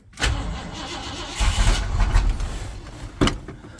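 A turbocharged Ford 351M with an MSD 6AL-2 programmable ignition cranks and sputters in a first attempt to fire, giving a close, loud, rough burst that falters and then ends with a sharp pop.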